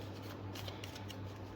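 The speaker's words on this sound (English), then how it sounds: "We are going to give it a quick shuffle and then take out 3 cards" Oracle cards are shuffled by hand in a quick, soft, papery riffle with light repeated flicks, faint and close, with no speech.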